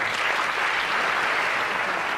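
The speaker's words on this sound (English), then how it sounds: "Let's give him a nice big round of applause, Joel" A studio audience at a televised hypnosis show applauds a volunteer, steady dense clapping close and loud throughout, with no talking over it.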